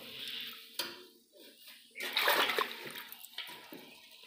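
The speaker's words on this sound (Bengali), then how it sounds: "তো চুনটা আমি জলের সাথে মিশিয়ে দেব।" Slaked lime is stirred into water in a bucket, giving close sloshing, splashes and a few hard knocks against the container. It comes in uneven bursts, loudest in the middle, with no talk.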